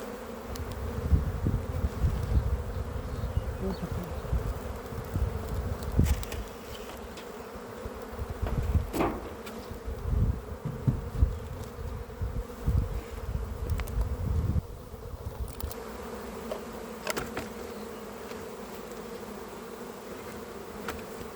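A strong honey bee swarm buzzes close and loud outdoors, a dense, continuous drone with individual bees whizzing past now and then.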